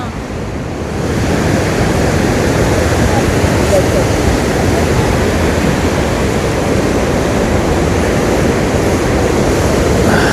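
Athabasca Falls pours in a powerful, continuous roar of rushing water, loud and close, with wind buffeting the microphone and a voice faintly under the din.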